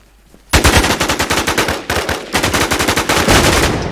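Video game gunfire rattles out in loud, close, rapid automatic bursts with a brief pause midway, and no distinct separate shotgun blasts stand out.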